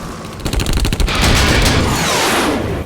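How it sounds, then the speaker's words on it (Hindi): Loud, dense gunfire from an action movie chase scene, rapid overlapping shots and booming blasts running continuously without pause. "पीछे गोलियां चल रही हैं।"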